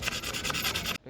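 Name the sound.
sanding with 180-grit sandpaper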